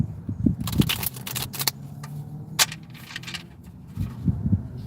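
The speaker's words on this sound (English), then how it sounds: "I'm going to shuffle these." Tarot cards are shuffled in short bursts of papery riffling and flicking, quiet and close, separated by pauses with soft handling noise and a low background hum.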